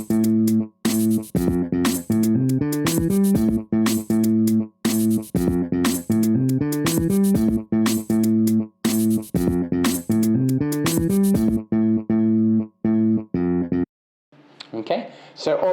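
Drums and a bass guitar from a rock sample pack play a steady groove together, loud and prominent, cutting out briefly before a short noisy tail.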